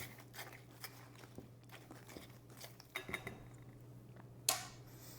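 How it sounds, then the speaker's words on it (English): Chopped bacon folded into cornbread batter with a utensil in a bowl, heard as quiet, scattered soft clicks and scrapes against the bowl with a low background hum and one sharper knock near the end. "we're going to drop in our bacon, our chopped bacon, and it will fold this bacon into the batter"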